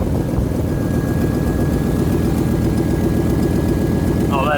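A 1997 Jeep Grand Cherokee ZJ engine runs after a head gasket job, its exhaust leak giving a loud, steady, rapid low puttering chug that holds evenly throughout, close and unbroken.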